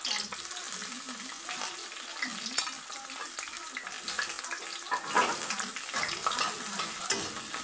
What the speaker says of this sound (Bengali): তো পেঁয়াজ জ্বলতেছি।